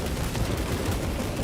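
Gunfire and grenade blasts in the video game Space Marine 2, a dense, continuous barrage of rapid shots and explosions filling the whole short moment.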